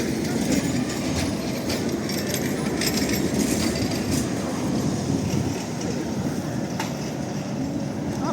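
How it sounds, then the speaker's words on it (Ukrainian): A tram pulls away along a street in Lviv, a steady loud rumble of wheels on rails with faint squeals, close by and continuous with no talk. "Ну що, трамвайчик рушить чи ні?"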